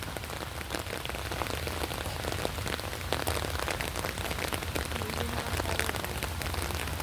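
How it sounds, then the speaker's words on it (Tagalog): Steady rain patters densely on a hard surface, a continuous hiss of drops with no voices. "Raining, raining, raining, raining."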